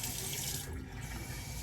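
Water from a tap runs steadily over a razor while it is rinsed during a shave, giving a close, continuous splashing hiss for the whole short stretch, with no talk.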